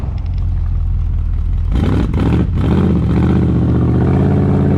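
A hotrod's high compression engine idles with a deep lumpy rumble, then revs sharply twice and settles into a loud, rough, close idle.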